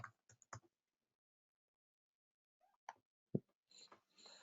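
A few sparse, faint keystrokes on a computer keyboard while a name is typed into a form, then a short run of quicker clicks near the end, mostly separated by quiet.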